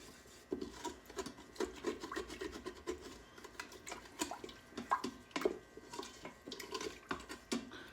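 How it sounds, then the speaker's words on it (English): A pan used to sear pork butt is deglazed, with close, faint scraping and rubbing strokes in an irregular rhythm against a light sizzling background, with no talking. "I'm going to sort of deglaze that pan, get all that good deliciousness off of the bottom of that pan"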